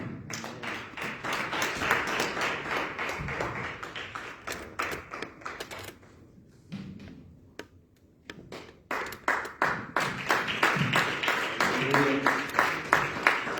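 A church congregation clapping together during a worship service, sharp rhythmic claps that pause briefly in the middle and then resume more loudly, with voices heard now and then.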